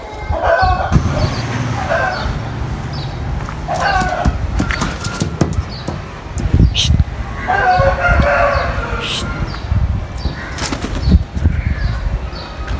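A rooster perched on a rooftop crows several times, loud and fairly close, over a busy outdoor background with brief wing flaps and scattered bangs and knocks.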